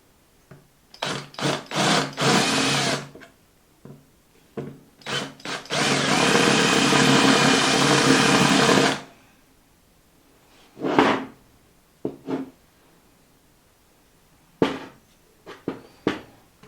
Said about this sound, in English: I'll go and get a drill bit and a screwdriver and drill these out.